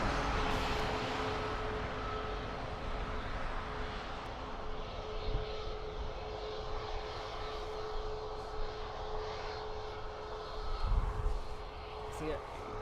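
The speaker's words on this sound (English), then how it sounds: "Ryanair off to Tenerife" A Ryanair jet departs Dublin Airport, its engine roar a broad, steady rumble held at moderate distance for the whole stretch, swelling slightly near the end, with faint talk underneath.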